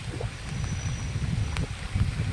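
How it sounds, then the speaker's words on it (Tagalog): Strong, gusty wind buffets the microphone outdoors, a low rumbling roar that swells and eases in uneven bursts, with a few faint ticks and knocks and no voices. "pabugso ang hangin, malakas na hangin"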